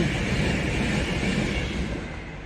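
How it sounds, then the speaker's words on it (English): A train passes close to a canal-side narrowboat being fitted out, a loud, steady broadband rumble that holds for the whole stretch and eases only slightly at the end, with no voices. "Train!"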